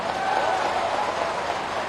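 Dense, steady applause from a large crowd at a political rally for Shivraj Singh Chouhan, a continuous wash of clapping held at even loudness throughout.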